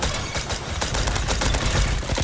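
Rapid automatic gunfire from an icicle launcher in the Roblox game Bad Business, dense bursts of shots rattling loudly and continuously with brief gaps, no talking.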